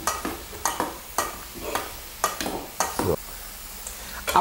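Vegetables sizzle in a pan while a utensil stirs and scrapes in repeated quick strokes, close and moderately loud.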